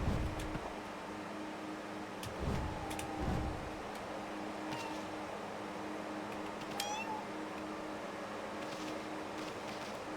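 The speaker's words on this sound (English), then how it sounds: "these miserable cat sounds are getting to me" Cat meows from the video game Okami HD, several plaintive drawn-out calls spread across a steady low hum with faint game ticks and chimes.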